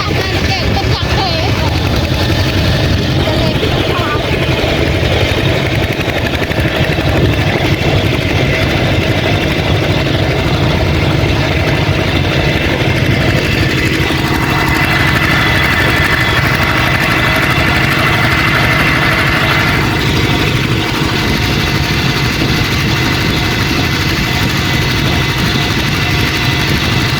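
A steady tractor engine rumbles and idles throughout with a constant low vibration, while faint voices talk in the background.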